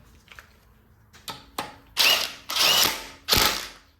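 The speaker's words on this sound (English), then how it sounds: "all you want to do is go ahead and tighten this bolt down" A ratchet tightens a bolt in a spacer on a Kia/Hyundai V6 cylinder head, a few light clicks followed by three loud, close, rasping ratcheting strokes of about half a second each.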